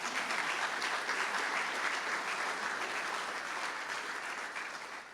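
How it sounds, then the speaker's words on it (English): Steady, dense applause from a lecture audience at a university law lecture, loud and sustained throughout before tapering slightly at the end, with no voices over it. "So I think she deserves a round of applause."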